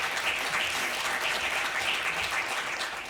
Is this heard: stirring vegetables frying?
no